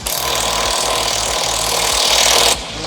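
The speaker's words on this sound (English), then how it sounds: "I'll rip the motor mounts out" Power tools grind and rattle steadily while motor mounts are pulled from a car's engine bay during an LS swap, a loud continuous mechanical whir with a low rumbling pulse that cuts off abruptly near the end.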